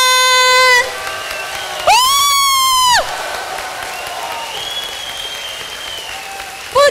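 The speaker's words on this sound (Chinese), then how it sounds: "好的，我们再请师尊重新升上法王座，大家热烈的掌声" Warm audience applause as a Buddhist master returns to his dharma throne at a temple teaching event, a loud burst of clapping under harmonic tones and chanting, fading then swelling again.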